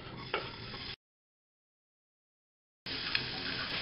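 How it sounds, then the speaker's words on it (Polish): Chopped onion hitting a pan with a spoonful of hot rapeseed oil, giving a close sizzling, stirring crackle that cuts out to silence midway and then resumes. "Sypuję cebulkę."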